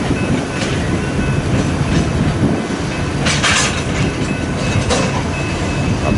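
Freight train passing in Fremont, Nebraska: a continuous close rumble of railcars with rhythmic clickety-clack from the wheels and a few sharper metallic bursts near the end.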